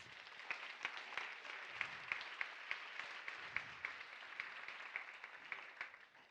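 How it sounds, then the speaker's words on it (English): Applause from a leadership forum audience at an awards presentation, heard as steady, fairly faint clapping from a mid-sized crowd with distinct individual claps over a continuous patter. "Can we please give them a round of applause?"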